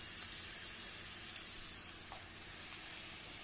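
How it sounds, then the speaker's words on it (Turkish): Onions softening and turning golden in a frying pan, giving a steady quiet sizzle with a soft continuous hiss and no voices. "Soğanlarımız birazcık yumuşayınca hafif sararmaya başladı"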